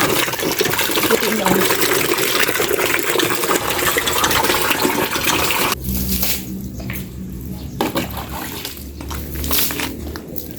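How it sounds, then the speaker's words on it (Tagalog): Strong water flow from a tap at a lot, a steady broadband rushing gush that runs loud and continuous, then shifts to a lower, more uneven splashing flow partway through. "Alakas po ng tubig namin dito."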